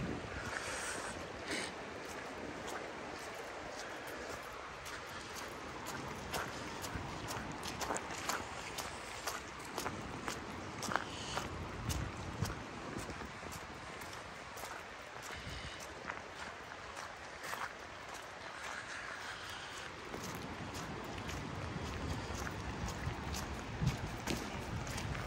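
Broad, steady rushing of floodwater at Top Bridge with flooded forest nearby, a dense continuous roar that stays fairly constant and low in level, with scattered crackles and no talk.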